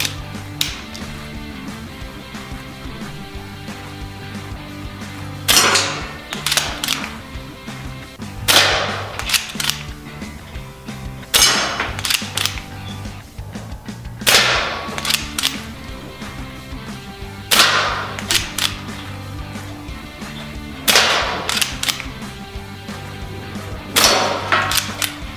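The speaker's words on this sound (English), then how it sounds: "that was great fun shooting at the metal sheets and the cans" An SMK CP2 air pistol fires pellets at metal sheets and cans outdoors: around seven sharp, loud cracks spaced roughly three seconds apart, each with a brief ringing tail, over steady background music.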